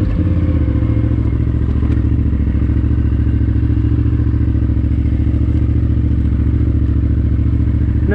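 A KTM 990R motorcycle rides off-road along single track at the Evart ORV area, its engine a loud, steady, close drone throughout, with clattering and thumps from the rough trail mixed in.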